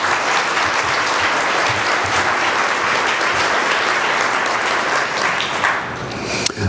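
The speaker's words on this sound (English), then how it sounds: "So please, a big round of applause for everyone who volunteered to help out this year." A large conference crowd applauds volunteers in a dense, sustained roar of clapping that holds steady at high volume for several seconds before tapering near the end.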